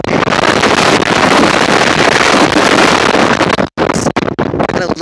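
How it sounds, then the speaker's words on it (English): Strong coastal wind at Russian Gulch buffets the microphone in loud, continuous roaring gusts, briefly dropping out near the end before rushing back. "It's really windy"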